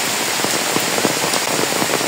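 Heavy rain pours steadily beside a swelling river during flood-threat weather, a dense, unbroken hiss of drops drumming on surfaces at close range, with no voices.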